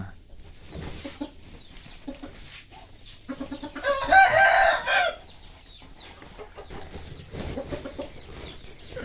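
Chickens cluck softly throughout while a rooster crows loudly once in the middle, close by on a farm.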